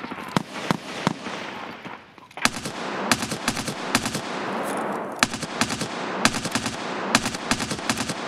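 Gunshots in Escape from Tarkov crack out loud and close in rapid bursts of repeated sharp reports, with brief gaps between volleys and no talk.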